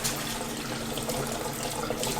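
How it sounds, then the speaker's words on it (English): A dog harness is rinsed under a running tap, the water splashing in a steady, close hiss with no voices. "So just in the flow of the water, just lift each side of it up."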